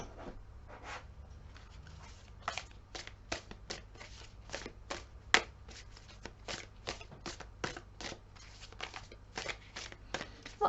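Tarot and oracle cards being shuffled by hand during a reading, giving a long run of crisp, riffling flutters and soft slaps repeating at an irregular rhythm, close and quiet over a low background hum.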